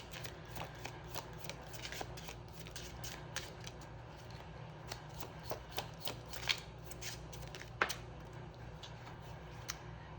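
A tarot-style card deck is shuffled in a quiet room, producing soft, rapid riffling and ticking card flicks with a few sharper snaps, fairly faint and heard without talk.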